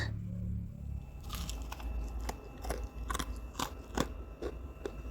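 Crispy fried banana pastry, pisang molen, is bitten and chewed up close, with a run of sharp, crackling crunches in an irregular rhythm over a low background hum.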